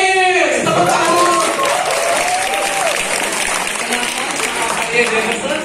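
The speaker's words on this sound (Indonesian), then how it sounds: "Tepuk tangan." Loud, close audience applause greets a student marketing team's presentation, with continuous dense clapping and some voices over it.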